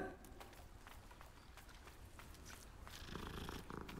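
A cat purrs in Hogwarts Legacy, a faint, steady rumbling that continues under soft game ambience and light footsteps, growing a little louder near the end.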